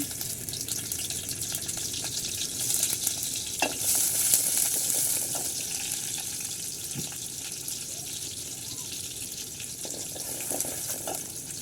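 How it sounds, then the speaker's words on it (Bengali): Chopped onion frying in soybean oil in a cooking pot gives a continuous, even hiss with a few faint clicks and knocks from the pot. "এখন সয়াবিন তেল দিয়ে দিব এখন দিয়ে দিব পেঁয়াজ কুচি"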